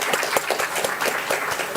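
An audience at an architecture conference gives a round of applause, with steady, moderately close clapping that is rhythmic and dense and has no talk over it.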